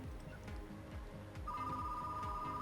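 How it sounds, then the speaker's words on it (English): A telephone ringtone sounds in a retro game shop setting, a steady electronic tone entering midway and holding over background music, fairly quiet. "The phone is ringing."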